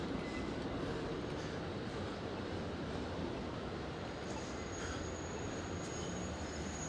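Subway train ride in Long Island City, New York: a continuous rumbling roar of the car in motion, with a thin high wheel squeal coming and going over the steady din.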